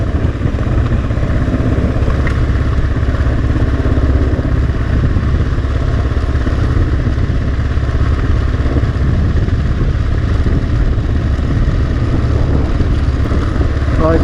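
KLR 650 motorcycle crawling downhill in first gear on a rocky camping road toward Highway 93, with a steady low engine drone and clattering throughout, constant and close.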